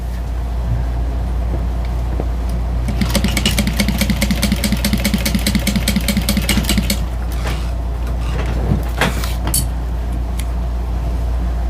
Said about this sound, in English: Let me sew that again.